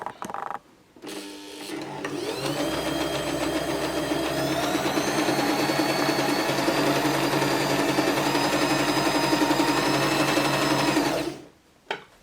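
A Janome My Style MS22 sewing machine sews a stretch stitch at width 6, starting with a brief whir and then holding a loud, steady mechanical hum and rapid needle clatter for about nine seconds before stopping.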